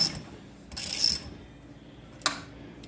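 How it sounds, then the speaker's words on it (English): Ratchet tool tightening the shock spring on a Can-Am Outlander XT ATV, a short burst of metallic clicking, then a pause and one sharp click, close by with no talking. "But just keep ratcheting down."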